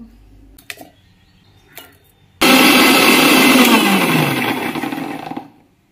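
A mixer grinder starts abruptly and runs loud and steady for about three seconds, grinding ginger, garlic and onion into paste, then winds down; a few soft clicks and handling noises come before it.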